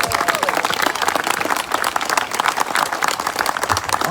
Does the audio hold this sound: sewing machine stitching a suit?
no